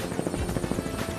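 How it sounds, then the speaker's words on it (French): Helicopter in an animated series, its rotor throbbing in a rapid, steady chop, loud and near, filling the whole moment without speech. "Un hélicoptère!"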